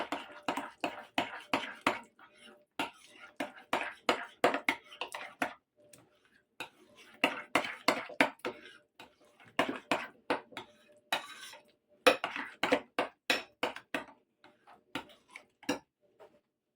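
Tomato paste being stirred into a pot with a metal spoon: quick, rhythmic clinks and taps against the pot in repeated bursts with short pauses, close and fairly light.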